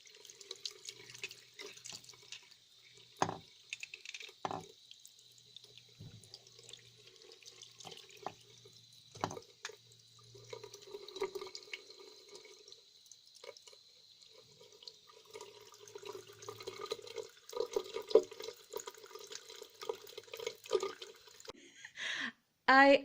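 Running tap water splashing over a piece of volcanic black glass in a sink, an uneven wash of pouring and trickling with intermittent knocks, ending in a brief louder clatter.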